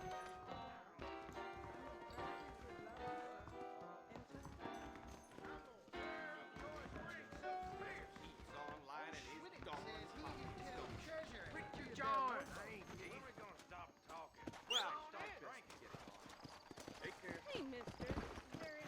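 Horse hooves clip-clop in the Western video game Red Dead Redemption, a repeated trotting rhythm mixed with game music and ambient effects while someone talks over much of it.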